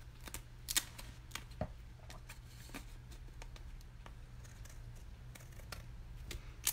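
Repeated sharp snips of scissors cutting paper, irregularly spaced and fairly close, over a low steady hum with no talking.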